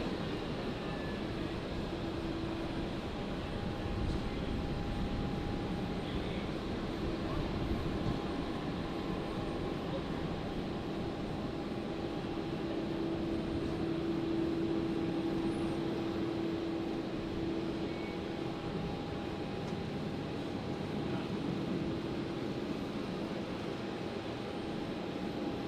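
A Cathay Pacific airliner from Hong Kong lands on runway 19 left at Brisbane Airport, a steady, fairly distant engine rumble with faint whining tones, holding evenly for about twenty-five seconds.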